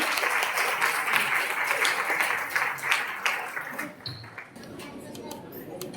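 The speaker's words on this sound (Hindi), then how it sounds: "कृपया आप सभी तालियों के साथ मैम का स्वागत करेंगे" Audience applause in a workshop hall welcoming someone speaker to the stage at a Christian women's empowerment event, a steady wash of many hands clapping that thins toward the end, with some voices mixed in.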